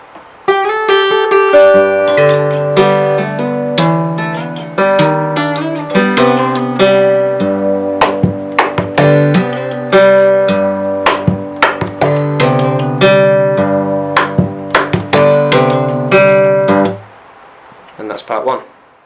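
Percussive acoustic guitar performance of a song, mixing picked chords with sharp slaps and knocks on the body in a steady groove. The playing is close and loud, lasts over fifteen seconds, then stops with a few fading rings.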